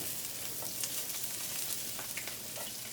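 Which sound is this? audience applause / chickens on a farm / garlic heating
garlic heating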